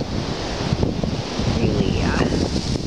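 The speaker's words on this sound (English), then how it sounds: "I think you can probably hear the wind howling." A windstorm in rural Ontario roars in a steady rush with gusts. Broadband noise fills the close microphone and swells toward the end.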